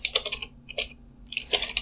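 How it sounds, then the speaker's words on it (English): Bursts of keystrokes on a computer keyboard while entering Nmap scan options, quick clustered taps with a short pause between groups, close and fairly quiet. "let me just type here"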